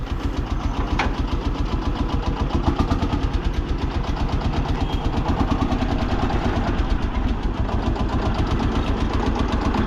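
A restored 1959 Lanz Bulldog D2416 tractor engine chugs steadily at idle, a loud, fast, even thumping rhythm that continues without pause throughout.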